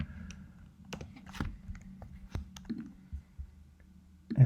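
Typing a formula into Google Sheets on a computer keyboard: scattered, uneven key clicks and taps at close range, quiet and irregular, with a slightly louder clack at the end.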